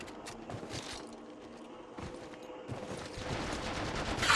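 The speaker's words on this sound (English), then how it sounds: "Opening fire." Gunfire in Apex Legends Mobile, quiet and busy, with steady rapid shots under game sounds that grow slightly louder toward the end.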